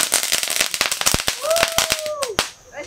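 Firecrackers go off at a family São João celebration in a rapid, close, loud string of sharp pops, with a brief voice-like tone partway through.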